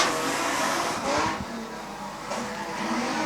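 A modified sedan race car, a Falcon, roars down the front straight, its engine rising and falling past close by amid other passing cars.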